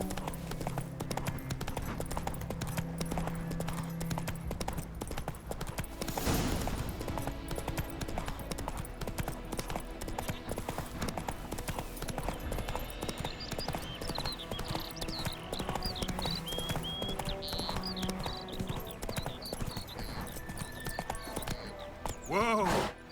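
Roach, a horse in The Witcher 3, trots with steady, rhythmic hoof clip-clops throughout, mixed with background game music, ambient noise and occasional talking.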